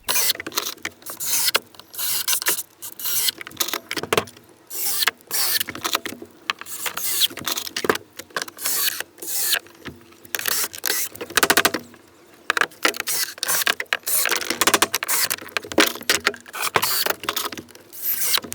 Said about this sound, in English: then I'll screw it all together.